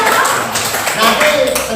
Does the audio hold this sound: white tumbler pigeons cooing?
no